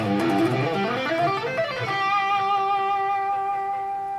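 Electric guitar playing a fast tapping run that climbs up from G, a rapid cascade of legato notes that settles into a sustained ringing note, heard alone and up close.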